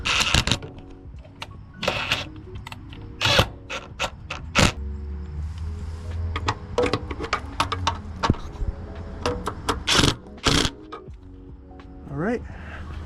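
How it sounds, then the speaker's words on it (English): Torque wrench tightening running board bracket screws on a 2024 Toyota 4Runner, with repeated sharp ratcheting clicks and clacks in uneven bursts, close up, mixed with handling noises and someone talking. "we can go ahead and grab the torque wrench and torque it down"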